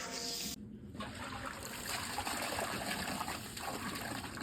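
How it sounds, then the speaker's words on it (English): Steady rushing spray of water from a garden hose splashing into a hollow deionizing resin tank, continuous and close, with a brief dip near the start. "take our hose and just spray it all in there."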